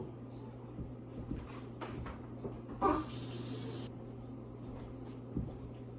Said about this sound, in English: I'm gonna put some cold water, and we'll fill this almost all the way up